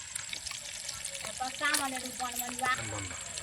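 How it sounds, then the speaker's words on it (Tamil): Pomfret fish fries in hot oil with a continuous close sizzle and crackle, while a voice talks over it. "பாருங்க நல்லா ஃப்ரை ஆகினு இருக்குது மீன் ஆயிலில்"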